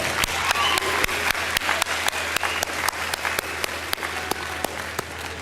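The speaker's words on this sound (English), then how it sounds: "So let's give her a round of applause just to really get her into this." A college speech-night audience applauds steadily in a hall, with sharp individual claps standing out over dense, even clapping that holds at full strength throughout, no voices.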